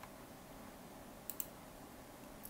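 A computer mouse gives a couple of quick, faint clicks in a quiet room, with a single soft click following a moment later.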